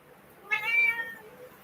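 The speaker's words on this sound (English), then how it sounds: "She is so vocal, this one. For being so small and cute, she's so loud at times." A small, vocal cat gives one loud, drawn-out meow close by, rising and then fading in an otherwise quiet room.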